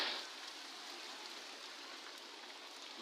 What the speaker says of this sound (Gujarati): એકદમ મસ્ત વરસાદની મજા કેવી સરસ છે.